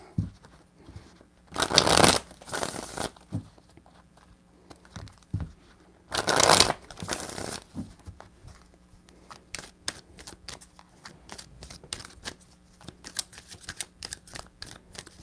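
Tarot cards shuffled by hand in three shuffles: two loud riffling bursts, then a run of softer, quick card flicks and taps, close and alone.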